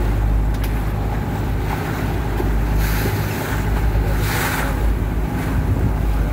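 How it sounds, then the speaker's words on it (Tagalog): A boat rides out on the sea at Crystal Cove, Thailand, with a steady low engine rumble, wash of water and waves, and heavy wind buffeting the microphone throughout. "Sakay tayo ng bangka papunta dun sa gitna"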